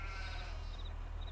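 A sheep bleats in the farming game Farming Simulator 22. The call is faint and drawn out over a steady low hum, with no talking.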